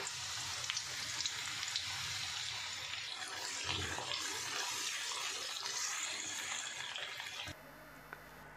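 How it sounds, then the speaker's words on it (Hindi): Onions frying in a pan toward light brown for chicken qorma, a dense, even hiss of hot oil that runs steadily for several seconds before dropping to a quieter hum, no voices. "प्याज को ब्राउन करेंगे, लाइट ब्राउन करके मैं इसको निकाल लूँगी।"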